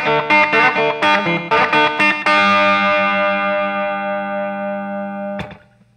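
Electric guitar in open G tuning on the bridge pickup with slapback echo, playing a riff: a run of punchy staccato chord stabs, then a loud sustained chord ringing out and cut off near the end.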